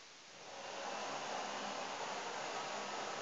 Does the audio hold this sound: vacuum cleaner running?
yes